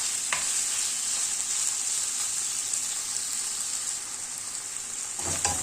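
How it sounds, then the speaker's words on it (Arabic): Garlic sautéing in a hot pan for an Egyptian street-style sausage dish makes a continuous, even sizzle, with brief stirring scrapes near the start and end. "شوحنا بالثوم اهو"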